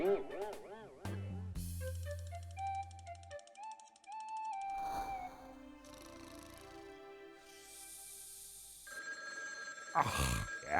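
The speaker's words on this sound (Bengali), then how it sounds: "এখন আবার কে ফোন করলো?" A telephone rings in a cartoon scene, a bright repeating electronic ring among music and sound effects, fairly loud and up close, with a short burst of other noises near the end.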